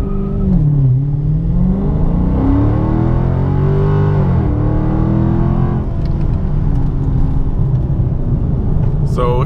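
Car accelerating hard in a 0-60 run with full traction control on, on 245 all-season tires with 485 hp and 475 lb-ft, a loud close engine rising through the revs, dipping at a shift and climbing again.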